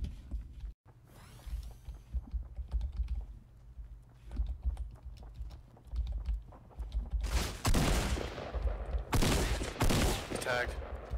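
Fortnite gunfire in a video game fight: clicky rapid shots and keyboard tapping run under a steady game bed, swelling into two loud bursts of firing near the end.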